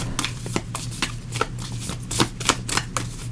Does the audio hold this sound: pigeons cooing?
no